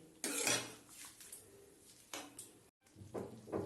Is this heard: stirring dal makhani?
yes